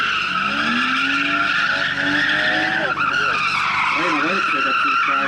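Drift car tires squeal and skid loudly in long wavering howls as the car swings around cones at a drift event, engine revving underneath and a voice speaking over it.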